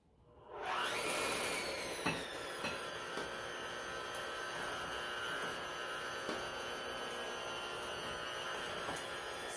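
An electric mixer runs on a very slow speed, mixing batter for an apple cinnamon pecan cake. It gives a steady, continuous motor whir from start to finish with no talking.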